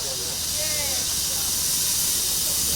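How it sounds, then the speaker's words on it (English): A steam locomotive on a running track hisses with a steady, loud, broad rush of escaping steam, continuous throughout with a faint voice beneath. "To prove all the critics wrong, Terry Moore has got his locomotive in steam and it's running down the Loco Road to the main track"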